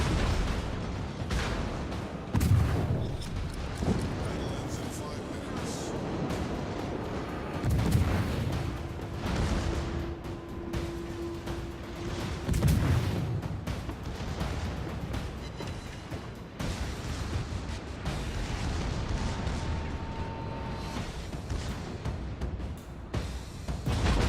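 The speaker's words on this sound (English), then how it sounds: "Now you're shooting" Artillery and gunfire in a Leningrad Narai battle video game, with several heavy booming bursts, a steady rumbling background of combat and intermittent shots spread across the scene.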